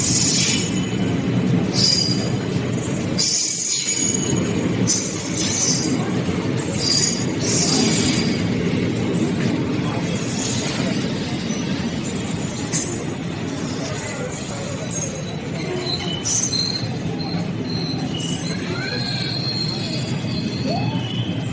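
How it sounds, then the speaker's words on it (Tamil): Train standing at the station on the Trichy Fort to Karur Junction run, with a steady low rumble, intermittent high metallic squeals and clinks, and chatter around it. "இந்த ட்ரெயின் கிளம்ப போகுது"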